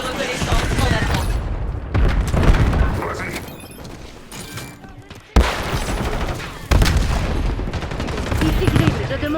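Missile strike explosions in a Call of Duty Black Ops 7 multiplayer match: loud, dense booms and rapid gunfire bursts with sharp sudden blasts, while voices talk over the action.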